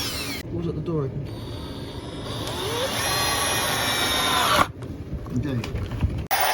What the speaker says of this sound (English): one can do the drilling, one the screwing